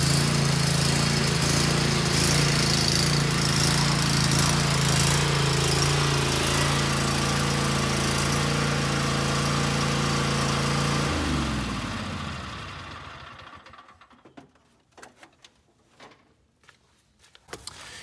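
A new lawn mower engine runs loud and steady at close range for about eleven seconds, then winds down and stops, leaving quiet clicks and small handling noises afterward.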